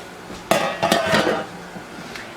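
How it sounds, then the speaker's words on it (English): A metal lid is lifted off a pressure canner on a hot plate during cucumber canning, giving a few metallic clanks and clinks over about a second, close and moderately loud, then quiet. "We need to remove the lid."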